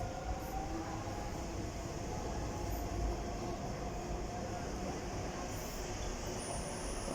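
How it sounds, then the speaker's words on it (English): A DLR light rail train departing Greenwich station gives a continuous, fairly loud rumble of rolling wheels and motors, steady throughout with a faint high whine near the end. "And off goes the DLR service to bank."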